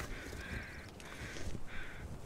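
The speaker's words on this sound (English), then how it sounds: "There's more crows over there." Crows in The Long Dark video game caw in three drawn-out, harsh calls separated by short gaps, fairly close and clear over a low, steady background rumble.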